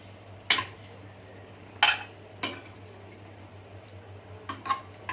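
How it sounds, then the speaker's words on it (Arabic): Sliced sausage, chopped tomatoes and colored peppers are stirred in a pan, with a handful of sharp utensil scrapes and clinks against the pan spaced over a low steady background hum. "هقلب بقى شويه كده لما الفلفل يدبل حبه صغيرين"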